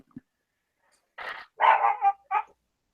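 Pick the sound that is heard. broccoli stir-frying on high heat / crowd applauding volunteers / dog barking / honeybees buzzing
dog barking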